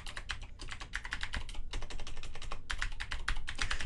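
Rapid typing on a computer keyboard, with close, crisp bursts of keystrokes in quick irregular runs and a few brief pauses, and no talking.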